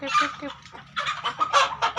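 Plump chickens cluck during feeding, a close run of short, bright clucks and chattering calls in quick uneven bursts with small gaps between them.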